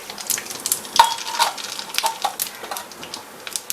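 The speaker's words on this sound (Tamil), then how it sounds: "நல்லா கொஞ்சம் கடுகு நிறையா போட்டுக்கோங்க" Mustard seeds spitting and sizzling in hot oil while tempering tomato pickle, a steady crackle close by with a few sharper pops and a light stir or clink of a pan.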